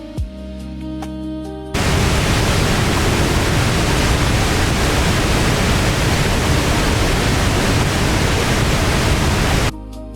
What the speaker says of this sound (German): Felsen teilen die Wassermassen in mehrere mächtige Kaskaden und geben dem Wasserfall seine charakteristische halbkreisförmige Form.